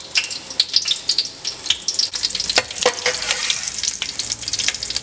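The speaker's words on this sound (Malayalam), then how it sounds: "നമുക്കിനി ഇതിലേക്ക് വറ്റൽമുളക് ചതച്ചത് ചേർത്ത് കൊടുക്കാം." Crushed dried red chillies fry in hot coconut oil with a close, bright, crackling sizzle that spits in quick uneven bursts, with no talk.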